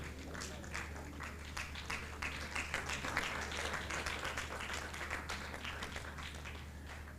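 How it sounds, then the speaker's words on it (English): An audience at an international academic conference claps steadily and continuously in a hall, a dense even patter of many hands heard from a moderate distance, with no talking over it. "As they are clapping for you, come forward."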